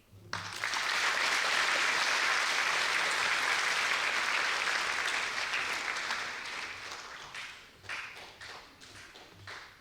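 An audience at a school district's distinguished alumni ceremony bursts into loud, sustained applause that holds steady for several seconds, then tapers into scattered claps and fades.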